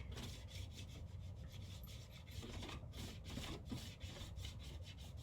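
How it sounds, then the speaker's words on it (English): Chalk paint is scraped off a metal tray for a kitchen riser, making a steady, continuous rasping and rubbing that runs in short repeated strokes, close up with no voices. "So basically we're just going to scrape this off"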